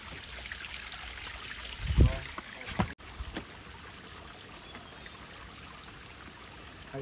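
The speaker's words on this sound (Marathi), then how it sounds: "धबधब्याजवळ." Water from a waterfall flows with a steady rushing, trickling sound, interrupted by a couple of louder splashes and knocks nearby, then settling back into a continuous moderate stream.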